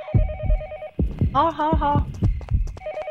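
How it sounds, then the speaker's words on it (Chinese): A telephone rings in the Yomawari: Night Alone video game: a pulsing, warbling ring starts, stops and starts again over deep, rhythmic heartbeat thumps, and a voice briefly speaks. "不知道是哪里的电话，我们要把电话找出来。"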